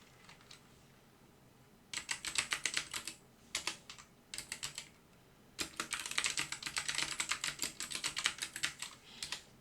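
Typing on a computer keyboard in bursts of rapid keystrokes, close and clear, with short pauses between flurries and no talk.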